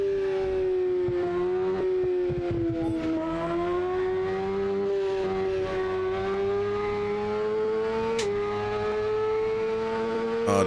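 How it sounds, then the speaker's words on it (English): A motorcycle in the Assetto Corsa racing game sustains a loud, steady engine note that rises and dips slightly through gear changes, droning continuously without speech. "Oh, this bike sounds so nice."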